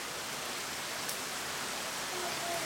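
A big rainstorm drums down on a backyard pool, producing a steady broadband wash of falling water that stays even throughout, close and loud.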